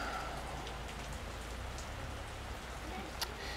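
Rain falling steadily outdoors in Brittany, a dense even patter on surfaces close by, with one sharper drip near the end.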